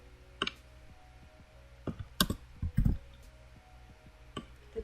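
Computer keyboard keys pressed for a cut shortcut, a handful of sharp clicks scattered across the stretch, close and distinct against a quiet room.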